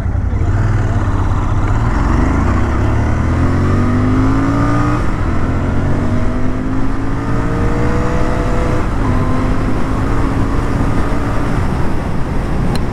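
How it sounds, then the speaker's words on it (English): A Royal Enfield Interceptor 650 motorcycle engine pulls hard at full throttle on a highway, its pitch climbing through several rising sweeps as it runs up through the gears. It stays loud and steady throughout, with continuous wind and road roar and no talk. "That's how the engine responds when you actually whack open the throttle."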